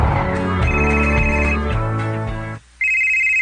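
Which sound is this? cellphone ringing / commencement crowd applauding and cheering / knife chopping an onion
cellphone ringing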